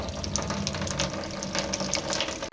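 Water pours and splashes loudly as something is rinsed, a steady close gush lasting about two seconds that then cuts off abruptly.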